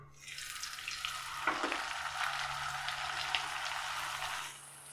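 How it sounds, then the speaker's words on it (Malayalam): Puri dough slides into hot oil in a pan and fries with a steady, soft sizzle that starts suddenly, holds evenly at a quiet level for several seconds, then tapers off, with no voices. "ഭൂരി പൊരിക്കാനായിട്ട് ഒരല്പം എണ്ണയാണ് നമ്മൾ ചൂടാവാനായിട്ട് വെച്ചിട്ടുള്ളത്"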